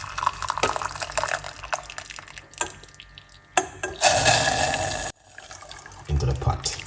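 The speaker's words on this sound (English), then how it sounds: "pour 1 cup of hot water." Hot water pours into a pot for a mint and lemon detox brew in a kitchen, splashing and gurgling in bursts with short pauses between pours, close and fairly loud, with a person talking in the background.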